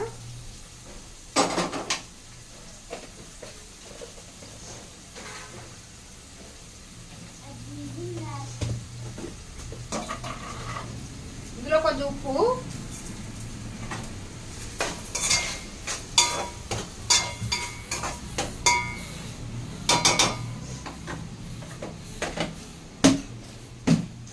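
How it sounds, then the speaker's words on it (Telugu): Onion and tomato pieces fry in a pan for chicken curry, a low sizzle under a woman's speech with frequent clinks and scrapes of a spoon against the metal pan. "కొంచెం ఫ్రై అయిపోయినాక ఇందులో ఆనియన్స్ అయితే వేసేసుకుంటున్నాను ముక్కలు టమాటా ముక్కలను అయితే వేసేసుకుంటున్నా"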